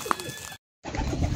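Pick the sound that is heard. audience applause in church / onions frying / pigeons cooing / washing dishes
pigeons cooing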